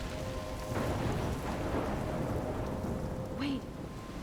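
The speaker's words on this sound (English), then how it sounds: "I'm trapped in a storm?" Steady rain and rolling thunder fill a storm scene in the video game Life is Strange, a dense wash of downpour with a low rumble and one brief brighter crack near the end.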